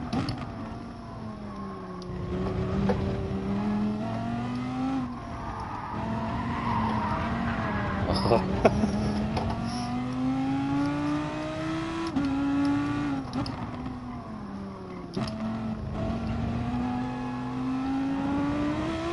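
A race car in Gran Turismo Sport revs hard and shifts gears repeatedly, its engine note climbing and dropping in waves with tire squeal and skidding, loud and continuous with no talking.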